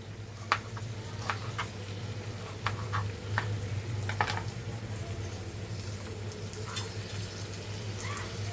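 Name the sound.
onion and tomato frying in a pan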